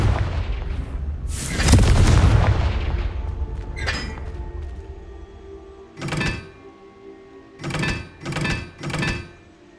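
Blasting spell explosions in Hogwarts Legacy: a loud booming burst near the start with a rumbling tail, then a thump, followed by a run of four short, sharp blasts in fairly quick succession.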